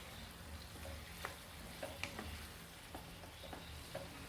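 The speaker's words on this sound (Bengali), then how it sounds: "এবার এর মধ্যে দিয়ে দিচ্ছি সেদ্ধ করে রাখা চিকেনটা দিয়ে মিডিয়াম ফ্লেমে খুব ভালো করে কিছুক্ষণ কষিয়ে নিতে হবে।" Boiled chicken with poppy seed paste and curry leaves fries on medium flame in a pan, a faint steady sizzle broken by soft scrapes and taps as it is stirred.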